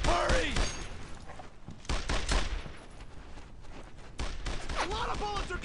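Rapid bursts of gunfire crackle in the World War II shooter Brothers in Arms: Earned in Blood, several close volleys with short gaps between them, loud and dense, mixed with shouted voices.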